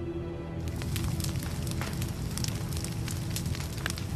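A wildfire burns near San Diego, giving a steady, dense roar with scattered crackles and pops that stays constant and fairly loud throughout, with no voices.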